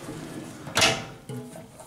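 A deep drawer on a new tool box slides and thumps once, with a second fainter clunk shortly after.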